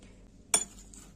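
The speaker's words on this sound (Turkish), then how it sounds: "Evet şöyle bir şekerimizi karıştırıyoruz" A metal spoon stirring sugar in a glass jar for homemade apple vinegar, heard as a single sharp clink against the glass over a quiet background.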